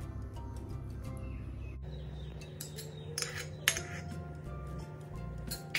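Metal clinking around an appe pan as ghee is added, a few sharp close clinks and taps over a low steady hum, with no talking.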